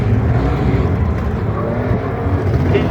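Trucks slide and bash into one another in a Halloween pumpkin smash derby, with loud, steady engine roar and rumbling filling the whole stretch and no voices.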